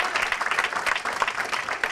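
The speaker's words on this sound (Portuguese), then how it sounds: "Aplauda o Senhor e dê um brado de vitória a Ele." A church congregation applauds, dense continuous clapping from many hands filling the space at moderate loudness.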